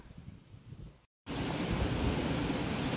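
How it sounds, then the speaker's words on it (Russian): Strong wind and rain during a wildfire in Northern Cyprus, a dense, steady rushing hiss that starts abruptly after a short silence and stays loud throughout. "Начался дождь, сильный ветер."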